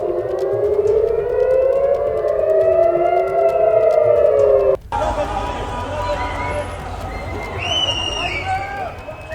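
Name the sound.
air raid sirens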